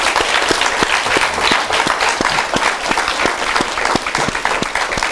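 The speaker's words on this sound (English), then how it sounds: "That clap is not good enough." An audience at a debate on skills versus certificates claps steadily, with loud, sustained applause from many hands and a brisk, even rhythm throughout.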